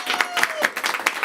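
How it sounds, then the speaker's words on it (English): An audience claps for two volunteers at a live stage event, a quick burst of separate, close claps with an uneven rhythm and a voice faintly underneath. "Clap for them, everyone."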